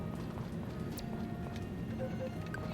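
Hooves clip-clop at a quick trot from a horse in the farming game Story of Seasons: Friends of Mineral Town, soft rhythmic beats over a steady low game background hum, with a faint brief whinny-like tone near the end.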